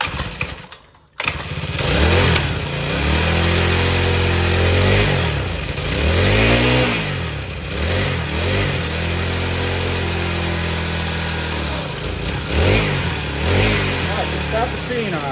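A tiny kid's motorcycle engine sputters to life and settles into a buzzy idle, swelling through repeated revs. It is close and loud, with voices talking intermittently over it.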